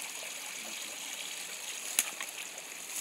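Stream water flows steadily at Comble-le-Roufle during a dye tracing, a soft continuous wash with one brief splash partway through.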